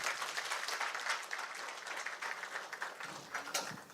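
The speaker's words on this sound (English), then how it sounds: "And we give him a hand clap." Steady hand clapping from an assembled audience at a Holy Cross education gathering in East Africa, a continuous, moderately distant patter of many hands throughout.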